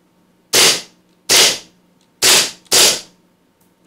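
Four sharp gas-blowback shots from a KWC Colt 1911 100th Anniversary airsoft pistol, loud and close, in an uneven rhythm with the last two fired in quick succession.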